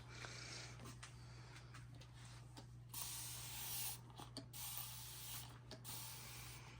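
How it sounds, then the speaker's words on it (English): A spray bottle is pumped in soft bursts, lightly misting the back of a quilt on a longarm quilting machine, each hissing mist separated by short pauses over a steady low hum. "we're just doing a light spray over the back of the quilt"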